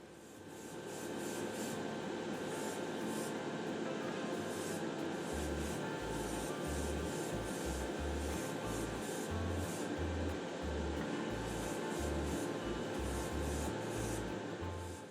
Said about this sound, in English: moved on to applying the second and final coat of clear